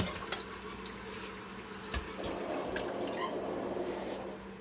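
Running tap water, a faint steady trickle and splash with a few drips, heard quietly and alone without voices.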